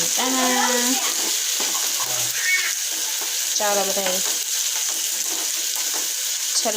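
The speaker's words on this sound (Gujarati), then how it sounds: "આપણે વઘાર માંડી દીધો છે" A steady sizzle of spices hitting hot oil runs throughout, with a person talking over it in short bursts.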